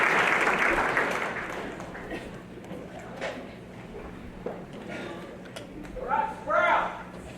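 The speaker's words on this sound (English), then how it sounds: "Based on the applause" At a university ring ceremony, an audience applauds loudly at first, then the clapping thins out and fades under people talking, with a short burst of cheering near the end.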